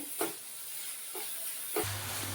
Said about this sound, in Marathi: त्याच्यामध्ये आता खोबरं टाकते आणि चांगलं हे मिक्स करून घेते